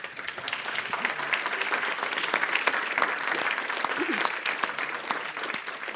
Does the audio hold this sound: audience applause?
yes